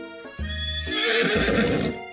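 Colonel Sanders' horse in a video game dating sim gives a clear, loud whinny that rises into a long wavering neigh, alone with no talk and with faint hoof clip-clop underneath.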